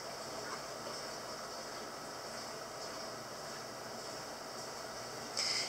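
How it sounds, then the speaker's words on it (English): Washing machine, dryer and fan running together indoors make a steady, faint broadband whir and hum, continuous and unchanging, with a brief louder burst near the end. "That's my washing machine, my dryer, and my fan"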